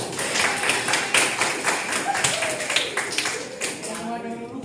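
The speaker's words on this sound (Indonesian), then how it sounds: "Aplaus buat kalian." A classroom applauds together, a dense run of claps with some taps and thumps that holds steady for several seconds and then thins out at the end, with a few voices mixed in.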